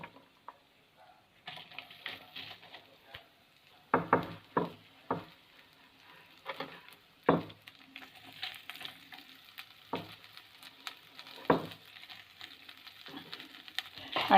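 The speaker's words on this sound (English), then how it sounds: "And we have to fry this onion until it becomes light brown." Onion frying in a pan with Kashmiri chilies for a mint and onion chutney gives a quiet, close sizzle broken by irregular scraping and clattering stirs of a utensil; no speech.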